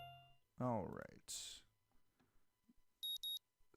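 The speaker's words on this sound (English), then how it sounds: "The sound of an alarm pulls me out of a fitful slumber into the unpleasant state of wakefulness." An alarm clock in the visual novel game Katawa Shoujo sounds as two quick, bright, high beeps near the end, after earlier voice-like sounds and a burst of noise.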